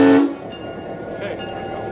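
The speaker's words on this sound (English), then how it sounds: "I even got to blow the horn." Loud, close blast of a GP9 diesel locomotive horn, a sustained harmonic chord that cuts off sharply after about a quarter second, leaving the low rumble of the idling locomotive and faint cab noise.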